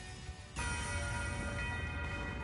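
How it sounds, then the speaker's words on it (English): Nocturne Bell skill chime from the video game Trails of Cold Steel IV, a sudden bright ringing strike with a sustained metallic shimmer that hangs over a low background rumble. "Resound! Nocturne Bell!"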